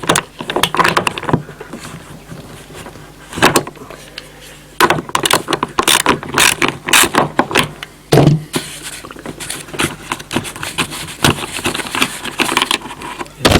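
Ratcheting, clicking and plastic handling noises from loosening the reverse-thread head on a Kioritz SRM200DA string trimmer, irregular close bursts separated by short pauses.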